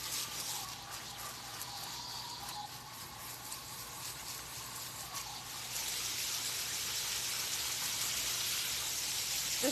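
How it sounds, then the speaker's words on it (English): A garden hose runs water over wood chips mixed with rock in hot weather, giving a steady hissing wash that grows louder and broader partway through, close by with no talking. "Just running the hose down over the chips so I can see them later."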